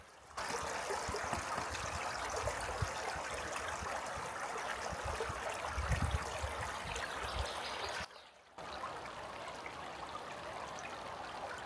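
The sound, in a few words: small forest stream flowing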